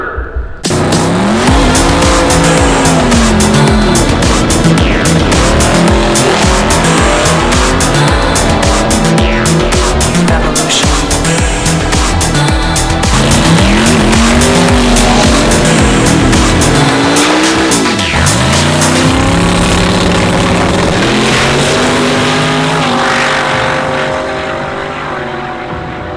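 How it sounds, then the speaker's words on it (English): A small car does a burnout, its engine revving hard and rising and falling in pitch over a continuous screech of spinning, squealing tires, loud and close, before the noise eases off at the end. "It did a better burnout than I thought it would"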